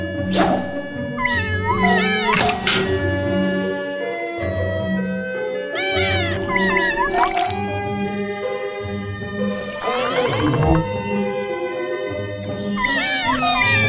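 Cartoonish cats meowing and caterwauling in the video game Super Granny 4, a string of loud, close, repeated meows over a light jingling game-music backdrop.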